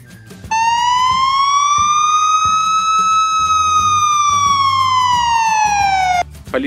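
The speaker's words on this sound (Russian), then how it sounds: "Полицейская машина." A police car siren from a children's cartoon about vehicles sweeps in one long, loud rising-then-falling wail, close and dominant, with a busy cartoon backing underneath and no talking.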